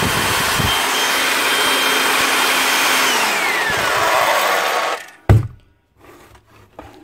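Repaired Makita 9401 belt sander running with a loud, steady whirring drone and shifting pitch, then switched off and winding down, followed by a few clunks.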